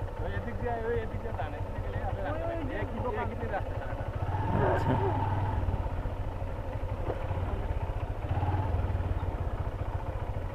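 A motorcycle rides along the Sylhet to Bisanakandi road, its engine putting out a steady, moderately loud drone that swells midway, under nearly constant conversation between riders.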